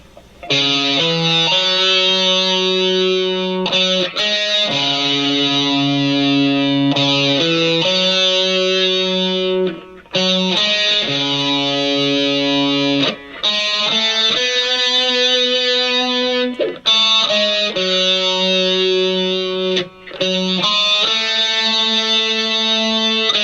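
An effected electric guitar plays the sustained, repeating verse melody of a pop song with clean, ringing notes and short gaps between phrases, loud and close.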